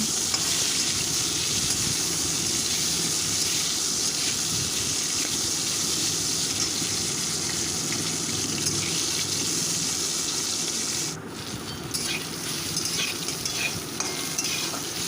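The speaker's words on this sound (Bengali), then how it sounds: "এবার এটাকে ভালো করে আমি আমটাকে ভেজে নেব।" Raw mango pieces fry with a mustard seed tempering in a pan for a sour lentil dal, giving a loud continuous sizzle with spoon stirring throughout and a brief dip near the end.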